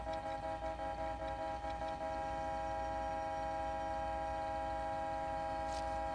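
In the video game State of Decay, a car horn gives a sustained, steady honk. The tone holds without a break for about six seconds and sits fairly low in level. There is no talking.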